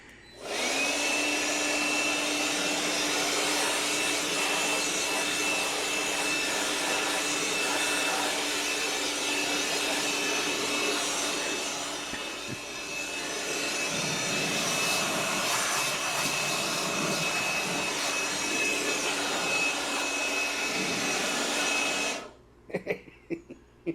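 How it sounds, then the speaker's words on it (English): A vacuum cleaner sucks dust out of a 24-volt solar generator during overdue cleaning, running as a loud, steady whine with a constant high tone for over twenty seconds, dipping briefly midway, then cutting off near the end. "I also went in there with the vacuum and cleaned up the rest of the dust that settled down"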